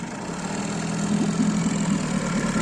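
A Johnson 4 Evinrude outboard boat motor idles steadily in original paint, its low mid-pitched engine drone continuous and fairly loud with a slight knocking texture, no talk.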